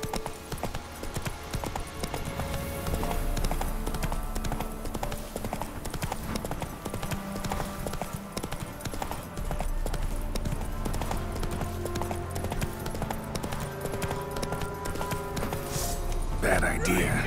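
Roach the horse gallops in The Witcher 3 on PS5, with a fast, continuous clip-clop of hooves running throughout under game music and a person talking.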